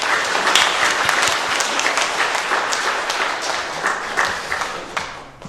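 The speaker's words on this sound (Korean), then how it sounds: "우리 그분들도 한번 박수로 환영하겠습니다" Applause from a church congregation welcoming guests at an anniversary Sunday service with an ordination, a dense, even wash of many hands clapping continuously throughout, loud and close, fading slightly at the end.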